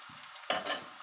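Marinated flattened rice tipped into a frying pan, a single sudden scraping, rustling dump of food with a soft sizzle and stir following, faint and close with no talking.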